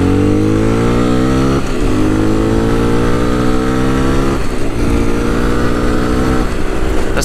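A Fantic 125 motorcycle engine revs hard and close, its pitch climbing and dropping in repeated surges over a steady loud drone, with no talking.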